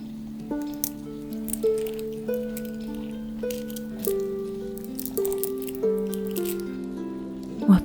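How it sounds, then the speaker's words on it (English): Small trinket jewellery pieces clink and clank gently against one another in light, scattered taps over a soft, sustained tonal background. "listen to the sound of them falling and clanking gently against each other"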